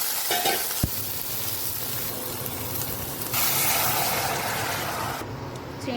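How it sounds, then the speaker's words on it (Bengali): Dried red chillies and panch phoron crackle and sizzle loudly in hot oil, a dense close frying hiss that swells partway through and then eases, with no voices. "শুকনো লঙ্কা দিলাম, পাঁচফোড়ন দিলাম"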